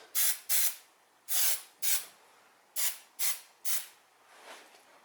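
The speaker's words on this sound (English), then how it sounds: "Just a little spritz." Spray can hissing onto rear wheel bearing surfaces of a 2004 Toyota Highlander during reassembly: about eight short sharp bursts in uneven pairs, close and crisp, with silence between.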